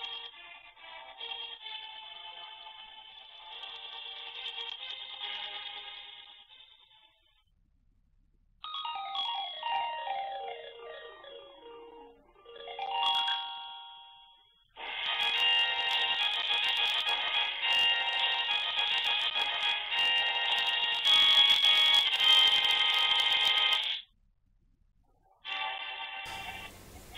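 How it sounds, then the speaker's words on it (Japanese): Electronic game console melodies and jingles picked up by a security camera microphone and played back through a smartphone, tinny and band-limited, with beeping phrases, a rising and falling sweep, and sustained loud passages separated by brief silences. "このゲーム機の音は逆にね、スマホからどのように聞こえるのでしょうか"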